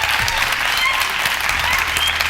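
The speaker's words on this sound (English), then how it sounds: "Samantha, round of applause to our very first debate." A studio audience applauds after a televised debate, a loud, dense and steady burst of clapping from many hands that fills the whole stretch with no letup.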